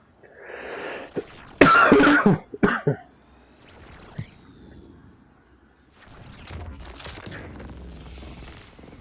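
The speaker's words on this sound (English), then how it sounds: "This is going to be one interesting rebroadcast with the amount of times I'm coughing here." A man coughs several times in sharp, loud bursts close to a semi-off microphone, followed by quieter background rustling and faint noise.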